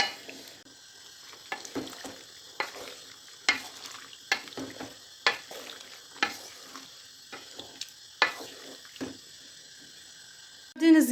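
Utensil scraping and stirring in a pot of simmering red peppers, with repeated knocks and clinks at irregular intervals over a soft bubbling background, close by.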